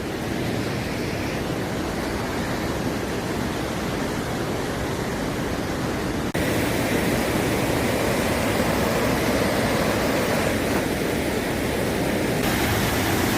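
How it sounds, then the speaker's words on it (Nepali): The Tamakoshi river rushes like a waterfall beside a forest trail in Nepal's Gaurishankar Conservation Area, making a dense, unbroken roar that stays loud and steady throughout, with a slight shift in tone partway and no voices. "अहिले झरना रूपी तामाकोसीलाई हामी हेर्दैछौँ"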